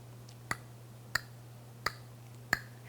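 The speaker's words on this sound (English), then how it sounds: "you're gonna click your tongue to the roof of your mouth" Four sharp clicks of the tongue against the roof of the mouth, evenly spaced about two-thirds of a second apart, crisp and close against a quiet background hum.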